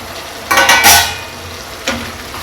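Mushrooms tipped into a boiling masala at a roadside stall, with a brief burst of sizzling and stirring clatter in the pot that fades, then a second short stir near the end.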